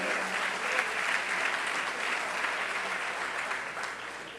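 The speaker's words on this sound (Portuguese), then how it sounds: "vamos aplaudir a Jesus agora" A church congregation applauds steadily, dense clapping from many hands that holds level for the whole stretch with a faint murmur underneath.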